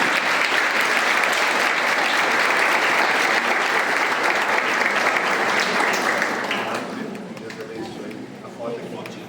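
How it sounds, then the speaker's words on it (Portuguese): Church audience at a São José feast-day mass gives sustained, dense applause that stays loud for several seconds, then fades out toward the end. "Papai Toninho, nossa salva de palmas, nossa gratidão."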